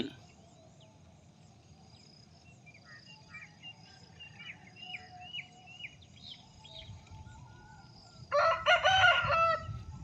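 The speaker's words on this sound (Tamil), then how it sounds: "இவ்வளோ உற்சாகமாக இருக்குது பார்த்தீங்களா சேவல்." A rooster crows loudly in the morning near the end, over a steady background of chirping crickets and faint bird calls.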